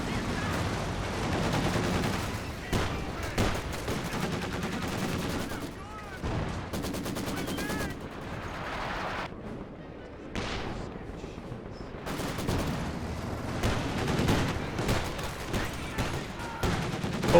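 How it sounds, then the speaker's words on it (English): Mortar fire and battle noise from the Company of Heroes 2 video game roll on continuously in dense, overlapping blasts and crackling gunfire. Loudness changes throughout, and a commentator's voice is faintly mixed in. "Mortar does strike there"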